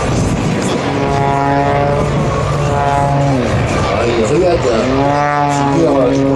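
Aerobatic propeller airplane from an air force display team performing at an air show, its engine droning steadily with rising and falling pitch sweeps as it maneuvers, loud and continuous throughout.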